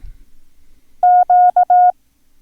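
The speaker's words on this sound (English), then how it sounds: "So that's the letter Q." A single steady beeping tone keys out Morse code, dash dash dot dash, clear and loud against near silence.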